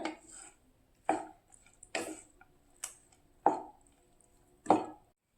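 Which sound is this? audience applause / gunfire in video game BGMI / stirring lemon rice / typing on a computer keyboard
stirring lemon rice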